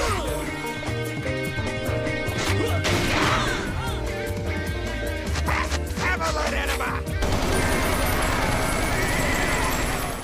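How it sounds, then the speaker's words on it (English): Gunfight in a corridor from the anime Dead Leaves: dense, loud bursts of gunfire and crashing impacts pile up over a driving score, with a harsh, steady wall of shots through the final few seconds. "Take this gunfight in the middle of this random corridor"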